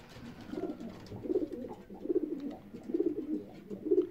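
Racing pigeons coo inside their loft before pairing season, with repeated throaty rolling coos in a steady rhythm of close, moderately loud calls and no talking.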